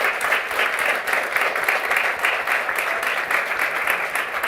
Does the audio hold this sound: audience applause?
yes